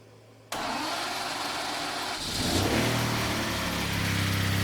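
A 1997 Lamborghini Diablo VT Roadster with a starting and running fault cranks and fires after a short quiet pause, then settles into a loud, steady idle that swells as the revs rise.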